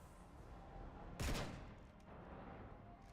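Gunfire in the Mass Effect 3 video game: one short, loud burst of shots over steady game ambience, followed by a fainter, briefer crack a moment later.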